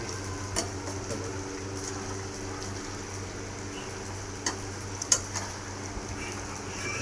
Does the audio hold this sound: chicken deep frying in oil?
yes